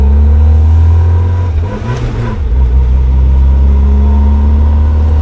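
Tofaş Doğan with an aftermarket exhaust revs loudly up close, the deep engine drone swelling and dipping as it shifts gears midway, then settling back into a steady idle-like rumble.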